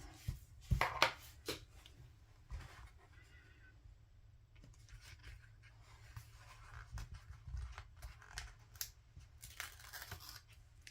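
Scissors snip through paper for a weekly planner layout, with a few quick close cuts followed by faint rustling and handling of paper at low volume.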